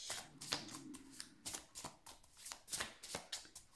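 Tarot cards are shuffled and handled, giving a string of crisp, close papery riffles and soft slaps as they are laid down, steady and alone with no talk.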